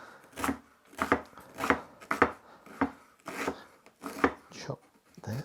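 A knife finely chops a thumb-sized piece of peeled ginger on a board, striking in a steady, even rhythm of about two crisp chops per second, close and clear with no talking.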